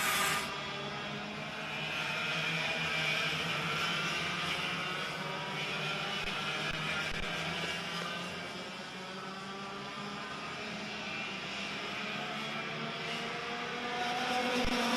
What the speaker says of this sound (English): the carts are starting to stack up behind our race leader